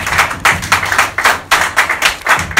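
A church congregation claps loudly in a brisk, steady rhythm of bright, dense hand claps, with no voices over the applause.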